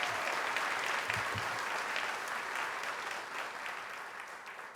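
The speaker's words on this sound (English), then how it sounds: "Give them a big round of applause." Sustained applause from a seated audience honoring school superintendents at a New York City education announcement, steady and loud throughout with no speech over it.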